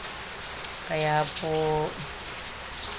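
Heavy rain falls in a dense, steady hiss, with someone speaking briefly over the downpour.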